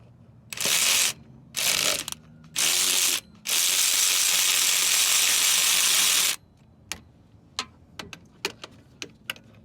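Ratchet loosening 13mm alternator bolts on a 2008 Dodge Avenger 2.4, giving four loud bursts of rapid clicking, the last one long and sustained, followed by sparse sharp ticks and taps.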